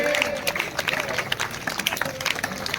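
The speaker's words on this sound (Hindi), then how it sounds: "तालियों का गड़गड़ाहट चलते रहे, तालियां बंद न रहे" An audience at a Bhagwat religious gathering claps, a brisk crowd applause of many hands, fairly close and continuous, with a voice speaking over it.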